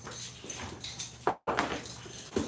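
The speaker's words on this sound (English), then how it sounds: "unfortunately, my dogs are awake" Dogs at home whimpering and yipping up close, several short restless bursts with a brief break in the middle.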